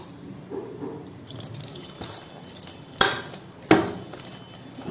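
Water is poured into masala idli batter and stirred, with soft liquid sloshing and light clinks of a utensil against the bowl, then two sharp knocks near the end.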